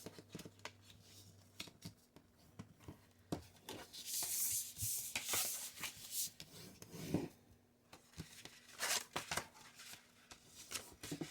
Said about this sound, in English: Now, we are going to burnish our score lines.